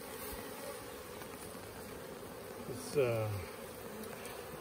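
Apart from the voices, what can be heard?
bee swarm buzzing in a wood pile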